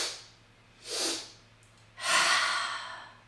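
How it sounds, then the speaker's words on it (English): Breathing exercise close up: a short sharp inhale, a second quick inhale, then a long, airy exhale trailing off, soft and clear over a quiet room. "So one more time, it's inhale, inhale, exhaling it all out"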